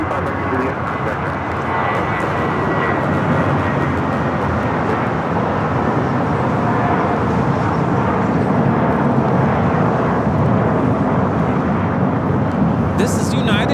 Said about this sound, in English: This is United Airlines 2692 taking off to San Francisco on the A320